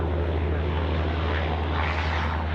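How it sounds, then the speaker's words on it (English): A Rex turboprop airliner taxis quickly toward the runway end at Sydney Airport, its propellers giving a steady, loud, broadband drone with no break. "So the Rex is powering through here to the last taxiway, uniform 1."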